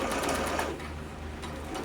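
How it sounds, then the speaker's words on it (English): A sewing machine stitching a sleeve into a garment runs steadily with a fast, even mechanical whir, close and continuous, with no talking. "I am just going to go ahead and sew"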